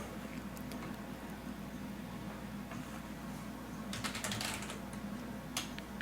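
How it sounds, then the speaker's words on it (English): Someone types replies to Twitch chat on a computer keyboard, producing faint, irregular key clicks that build into a quick flurry partway through before thinning out again. "I keep typing to respond to questions on Twitch"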